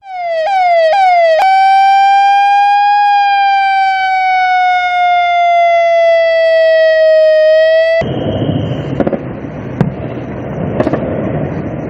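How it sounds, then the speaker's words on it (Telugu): Air raid sirens wail loudly during a drone attack in a border region, a long sustained rising-and-falling siren tone that cuts off abruptly into a noisy rumbling background with scattered bangs. "ఆ ప్రాంతంలో భారీగా సైరన్ శబ్దాలు వినిపించాయి."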